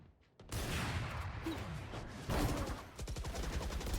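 Hunter's Fury ultimate blasts fire in the video game Valorant: loud, rough energy bursts that surge in after a quiet start and keep rumbling, with a rapid run of crackling pulses near the end.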